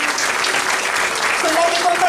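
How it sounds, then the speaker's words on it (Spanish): The congregation at a women's church congress claps together in a loud, continuous burst of applause that carries through the whole moment. "Le damos un aplauso a estas preciosas siervas de Dios"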